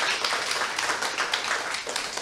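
A seminar audience in a hall breaks into loud, continuous applause, many hands clapping together in a dense, even wash that fills the whole moment without any voices.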